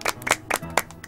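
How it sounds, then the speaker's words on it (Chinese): A few people clap for about a second, five or six sharp, close claps in a loose, uneven rhythm with no cheering. "来，给他点掌声吧。"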